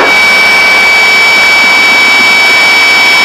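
Light airplane engine drones steadily during slow flight at minimum controllable airspeed as throttle is added, a constant loud cabin hum with high whining tones and no talk.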